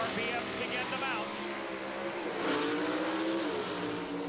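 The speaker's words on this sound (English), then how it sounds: "When both cars are ready, you'll hear the RPMs begin to mount." Two drag race cars with 500 cubic inch engines, twin four-barrel carburetors and racing gasoline rev at the starting line at the 1988 NHRA Seafair Nationals, a loud continuous roar that surges and climbs in pitch.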